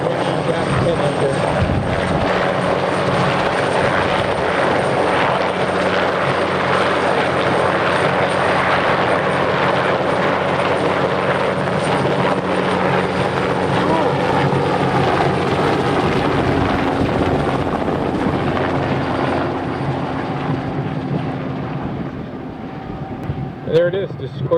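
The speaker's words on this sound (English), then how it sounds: "There it is, the Sikorsky S-58." A Sikorsky H-34 Choctaw (S-58) helicopter with its radial engine flies by, a loud continuous rotor thump and engine drone that holds steady for most of the pass, then fades as it moves away.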